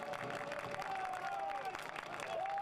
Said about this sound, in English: Crowd urging their side on.